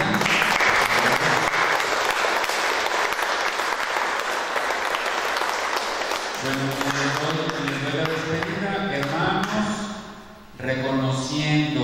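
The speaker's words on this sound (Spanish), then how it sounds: "vamos a brindar un fuerte aplauso" Strong applause at a quinceañera celebration mass, loud dense clapping from a crowd for several seconds that fades under music and voices talking as it tapers off.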